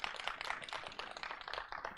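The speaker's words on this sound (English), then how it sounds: "Give her a big round of applause for helping" A small audience at a magic show applauds a volunteer, dense, steady clapping from many hands heard from a moderate distance at a fairly low level, without talking.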